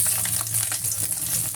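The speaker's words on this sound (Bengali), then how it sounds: "কড়াইতে কালো জিরে দিয়ে দিয়েছি।" Black cumin seeds fry in a wok with a steady, close hiss of sizzling oil that runs without pause through the short stretch.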